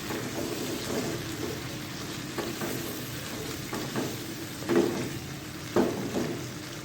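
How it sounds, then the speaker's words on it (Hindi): Garlic ginger paste fries in a pan with a steady close sizzle, broken by a few soft stirring scrapes and occasional louder spatters. "इसके साथ हम डालेंगे 1 टेबलस्पून भर के लहसुन अदरक का पेस्ट और इसको हम अच्छी तरह से फ्राई करेंगे।"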